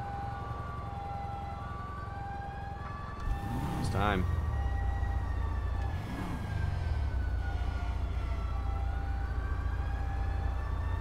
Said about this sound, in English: The sirens don't sound right.